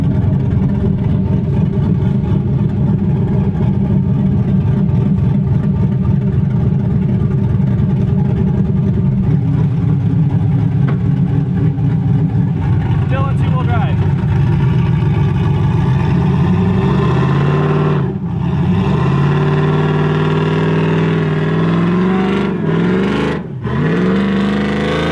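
A car engine revs hard to climb out of soft sand on traction boards, a loud sustained close roar with rising and falling pitch that eases toward the end, punctuated by a couple of brief drops, no talking.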